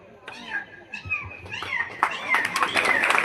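A voice imitates a cat, giving a series of drawn-out meows that grow louder and more insistent.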